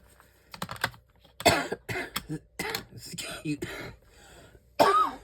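Several bursts of coughing and throat clearing, close and fairly loud, separated by short pauses with faint clicking in the background.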